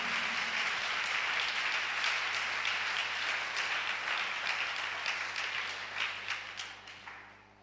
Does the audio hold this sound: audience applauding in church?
yes